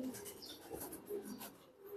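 Pigeons coo softly in a loft in Mirpur, giving a few faint, low murmuring calls over a dull background hum.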